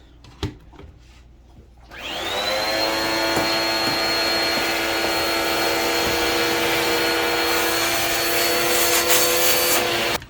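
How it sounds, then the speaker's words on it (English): A vacuum cleaner switches on after a couple of faint clicks and runs steadily with a loud, high whine, close by, for the rest of the clip. "Vacuum it up."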